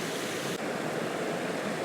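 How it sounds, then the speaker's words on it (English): Waterfall at Puck's Glen in Scotland, a steady broadband roar of falling water that stays dense and constant throughout, heard close and fairly loud with no voices. "So the waterfall pretty much centre."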